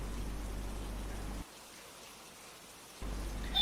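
Rain falls in a steady patter during a demonstration of a rain-detecting automatic umbrella. The patter drops out briefly mid-clip, then returns with a sharp final sound, and no one talks.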